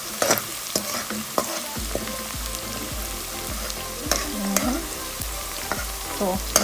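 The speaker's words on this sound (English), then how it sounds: "So make it fry a little bit now" Food frying in a pan, with a steady loud sizzle and sharp pops and clicks of stirring spread across the whole stretch, and no voices.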